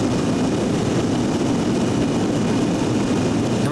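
A military transport airplane's engines drone loudly and steadily before takeoff, a constant heavy roar with a faint high tone running through it, close and uninterrupted.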